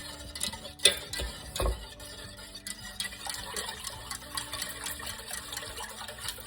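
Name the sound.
whisking vegan cake batter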